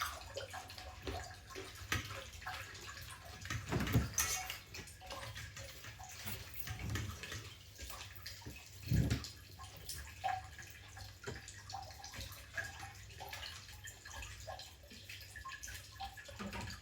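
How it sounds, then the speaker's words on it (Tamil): Soaked urad dal being washed in water by hand, with soft splashing and sloshing that swells in a few louder surges, close and fairly quiet, no talking. "இந்த ரெண்டையும் கழுவி உப்போம்."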